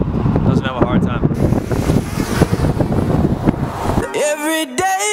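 Steady wind buffets the microphone outdoors on a roadside stop in Saskatchewan, a continuous low rumbling roar that runs throughout before dropping away near the end.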